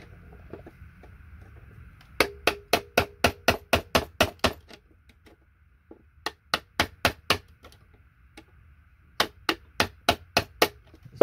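Sharp hammer strikes drive a small chisel to knock BGA chips off circuit boards for gold recovery, coming in quick bursts of about eight to ten metallic taps, then pausing before the next series, close and loud.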